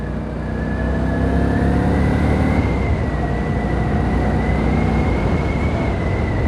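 A 2024 Indian Scout 1250 cc motorcycle engine accelerates on a road test, giving a loud, steady rumbling drone with a rising whine over about six seconds and no talk.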